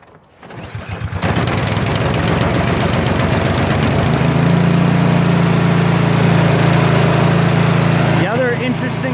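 A Poulan PR621 single-stage snowblower with a 208cc four-cycle 6hp engine starts and climbs to a loud, steady, close-up drone while throwing snow, with a brief clatter near the end.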